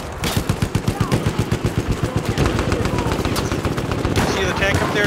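Rapid automatic gunfire rattles through a Battlefield 1 operations battle at Fao Fortress, a fast, regular volley of close shots that blurs into a denser roar of weapons, with a player talking over it.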